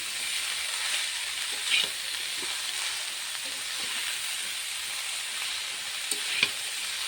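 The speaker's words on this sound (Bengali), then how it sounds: "ভালো করে বাঁধাকপিটা নেড়ে চেড়ে" Shredded cabbage stirred and fried in a pan for a Bengali cabbage ghonto with hilsa fish head, giving a steady soft sizzle with a few brief spatula scrapes, close and moderately quiet with no talk.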